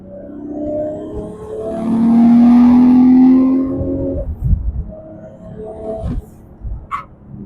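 The engine of a 1990 Nissan GT-R R32 on anti-lag rises into a loud, sustained droning rev while the turbo spools, then drops off into rough idling with sharp pops and bangs.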